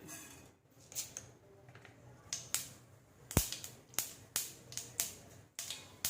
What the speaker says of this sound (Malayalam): കടുക് പൊട്ടി കഴിഞ്ഞു.